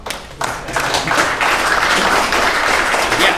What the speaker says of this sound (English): It doesn't feel complete unless somebody claps.